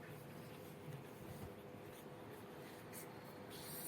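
Pen or chalk writing during a Hindi-language class 10 maths lesson on trigonometry, a steady close scratching that runs throughout with no voice over it.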